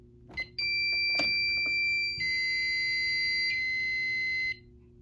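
A Fire-Lite MS-5UD fire alarm panel sounds during a system reset: a couple of short clicks, then a loud continuous electronic tone that holds for several seconds, shifts pitch partway through and then cuts off.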